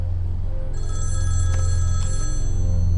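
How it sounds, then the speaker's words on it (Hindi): An electronic telephone ring trills in a repeating tonal pattern, clear and fairly loud over a constant low rumbling background, with no one speaking. "अब फोन आएगा ना, तू ही बात करना, मैं बात नहीं करूंगा।"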